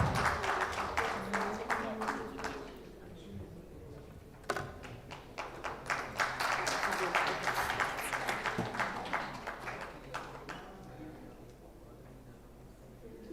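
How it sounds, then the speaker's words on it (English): Audience members at an Islamic fintech forum clap in scattered, uneven waves, with sparse individual claps swelling into a fuller burst midway and then tapering off, faint talk underneath. "A big round of applause for Ms."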